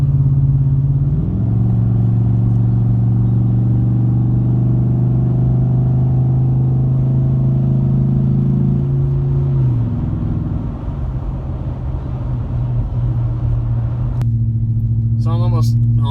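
A 2014 Ford F-150 with a 5.0 V8, Roush exhaust and Roush intake cruises along with a steady, loud low engine drone; the pitch drops and the rumble loosens near the middle, and a voice briefly enters at the end.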